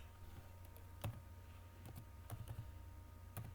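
Light typing on a computer keyboard, a handful of soft, irregular key taps spaced through a quiet room, close and faint with no talking.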